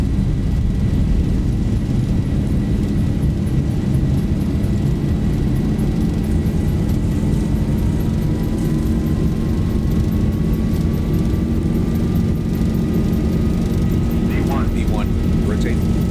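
Boeing 737-800 accelerating down a runway on its takeoff roll in X-Plane 12, a steady loud jet engine roar with rumbling wheels, a slowly rising tone, and a few faint clicks near the end.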